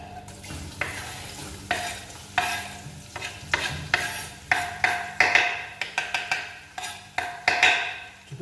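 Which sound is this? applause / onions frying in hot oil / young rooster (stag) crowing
onions frying in hot oil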